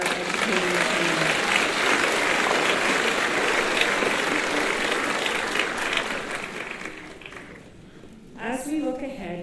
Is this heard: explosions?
no